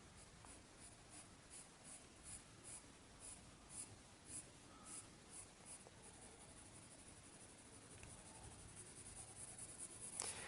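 Pen or marker strokes drawing a math diagram by hand for a limits lesson, a quiet series of short scratchy strokes in a steady rhythm, close and faint, with no talk.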